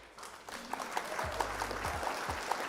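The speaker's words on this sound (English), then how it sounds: "Round of applause for our opponent." Scattered clapping from a small group at a Flesh and Blood card game match, moderately loud and continuous, with a few low thumps underneath.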